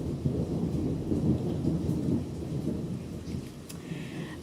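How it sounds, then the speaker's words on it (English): Deep thunder rolls on and on through a steady downpour of all-day rain, loud and close, with rain pattering on surfaces underneath. "So we've been getting a lot of not a lot of lightning, but a lot of thunder."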